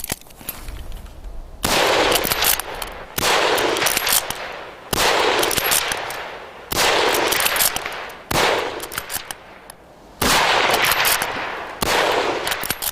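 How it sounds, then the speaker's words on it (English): Volleys of massed rifle fire come from veteran extras in a reenactment of the British fighting at Mons in 1914. Loud, sharp bursts of rapid shots arrive in repeated waves, each about a second long, with brief quieter gaps between them. "When the British met the Germans for the first time at Mons, on the 23rd of August, their rifle fire was ferocious."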